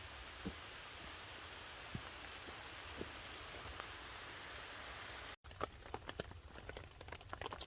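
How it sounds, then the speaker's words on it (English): Rain falls steadily in a forest, a soft continuous hiss with scattered drips and patters, growing into sharper, denser drops after a brief cut. "Oh, I can hear that rain coming down again."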